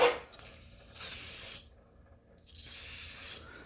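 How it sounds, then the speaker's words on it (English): Penetrant spray hissing onto stuck bolts on an old John Deere B tractor, two separate short bursts with a pause between, close and fairly soft. "let's try hitting these with some penetrant"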